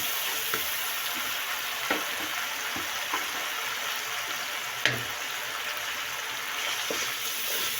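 Garam masala roasts in a pan for Kabuli pulao with a steady hissing sizzle. Scattered light spoon taps and scrapes come through, with one sharper knock midway, all close and even in level.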